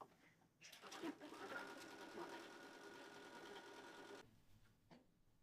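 A domestic sewing machine runs steadily while stitching binding onto a quilt, a continuous whirring run of about three seconds between soft handling noises, fairly quiet and close.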